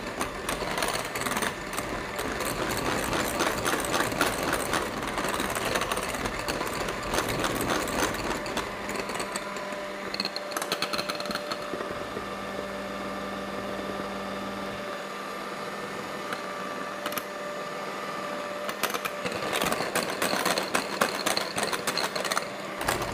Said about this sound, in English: So now we just need that final whisk, and that will get all that sugar fully dissolved into the meringue.